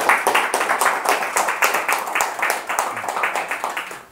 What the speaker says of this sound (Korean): 스님 환영의 의미로 큰 박수로 맞이해 주셨습니다